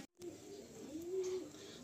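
A pigeon gives a low, soft coo after a brief dropout, a single drawn-out call heard fairly close against quiet background noise, with no one speaking.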